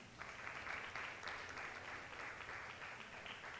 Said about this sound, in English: Give her a big hand of applause.